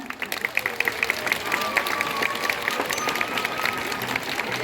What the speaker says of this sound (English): Et c'est sur ces chaleureux applaudissements que notre animation va toucher à sa fin.